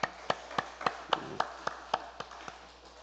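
A series of sharp, evenly spaced claps or taps, about eleven in three seconds, ringing slightly in a quiet room during a church service.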